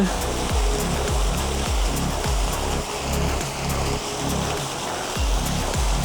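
Night-time water fountains splash steadily in a broad, continuous wash, with a faint low rumbling of traffic or hum underneath and no talking.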